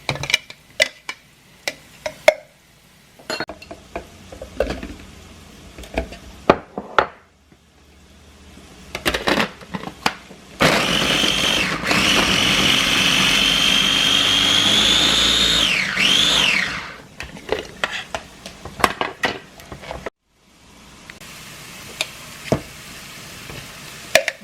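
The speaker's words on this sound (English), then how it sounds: "you want to grill the garlic first" Garlic for Pad Thai sauce frying in a pan: scattered taps and scrapes, then a loud, steady sizzle swells for several seconds with a faint whistle-like tone before fading back to sparse clicks.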